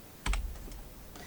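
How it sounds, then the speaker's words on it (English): Quick bursts of computer keyboard typing, a few close, crisp key clicks in a short cluster followed by a couple of fainter taps in a quiet room. "My typing skills."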